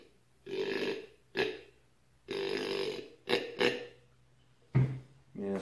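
A deer hunting grunt call with a snort-wheeze feature, blown in several bursts of varying length, some drawn out and others short and sharp, loud and close with quiet gaps between.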